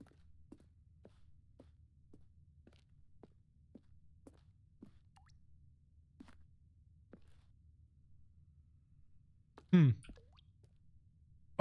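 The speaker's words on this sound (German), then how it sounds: "Oh, es tropft." Water dripping from a leaking pot, a slow irregular series of faint, close plops over a low hum, followed by a louder brief sound near the end.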